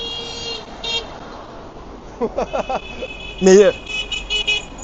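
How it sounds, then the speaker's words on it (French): Car horn honks on a busy street, several short toots and one longer blast rising out of traffic noise, with a voice talking over parts of it. "ça klaxonne"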